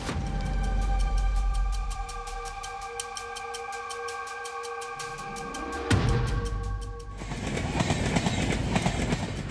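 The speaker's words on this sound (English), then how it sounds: "A train rumbles through the snowy forest." A train rolls through a snowy forest, sustained horn-like tones over a low rumble giving way to louder clattering wheels and rushing noise as it passes close by.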